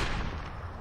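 A heavy gun fires in the Singularity video game, one dense, loud blast with strong low rumble filling the whole short moment, no voices over it.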